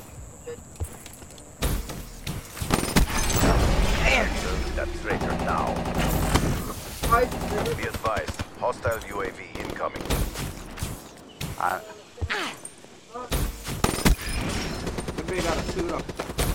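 Automatic and rapid gunfire in the PS4 shooter Black Ops 3, loud, dense bursts stretching through most of the stretch with brief pauses between volleys.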